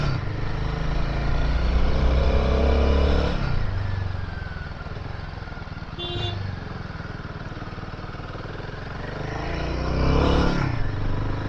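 A Royal Enfield Himalayan 450 motorcycle climbs a hill road in first and second gear toward Matheran, its engine droning steadily and fairly loud throughout, with brief surges in revs near the start and end.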